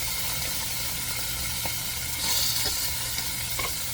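Bacon sizzles steadily in a pan for pizza, with faint scrapes and stirring clicks over a continuous frying hiss, a brief louder burst of spatter midway.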